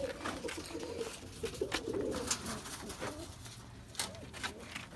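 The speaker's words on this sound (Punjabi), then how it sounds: "ਸ਼ੇਰਾ ਯੂਐਸਏ ਪ੍ਰਿੰਸ ਮੋਕਲ ਜਸਕਾਰਨ ਢੇਸੀ ਕਬੂਤਰ ਦੇਣੇ ਆ ਭਾਈ ਹੁਣਾਂ ਦੇ" Pigeons at a Bathinda pigeon breeder's loft coo softly and steadily in low, throaty rolling calls, with faint scattered noises and rustles around them.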